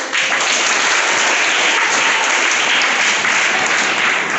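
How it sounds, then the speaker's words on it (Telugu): A classroom of students claps together at an English practice lesson, a dense, steady burst of hand claps lasting throughout, close and loud with no talking over it. "claps all of you"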